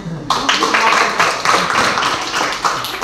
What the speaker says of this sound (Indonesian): Tepuk tangan untuk kelompok kita semuanya